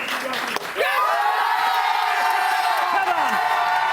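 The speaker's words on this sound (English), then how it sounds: "Another round of applause." A live comedy show crowd cheers and whoops after a big exit, with shouting voices and clapping mixed into a loud, sustained roar following a brief sharp onset.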